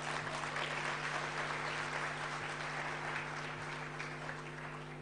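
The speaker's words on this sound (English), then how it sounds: "We can give her another round of applause." Sustained audience applause after a live vocal rendition of Here Comes the Sun at an event, dense and steady clapping throughout, slowly easing at the end over a constant low electrical hum.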